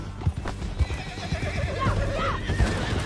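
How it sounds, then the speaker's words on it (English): A horse in the Red Dead Redemption 2 video game whinnies with a wavering neigh while its hooves clip-clop in a steady rhythm underneath, fairly close and moderately loud. "Get him on your horse."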